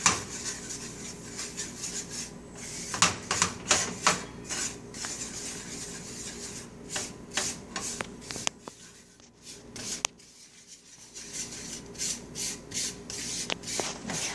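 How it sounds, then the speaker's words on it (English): A spoon scrapes and rubs around a pan on medium heat, working a Southern chocolate gravy mixture into melted butter, giving close, uneven strokes with a brief quiet pause partway through. "I'm just going to start stirring this in with the butter."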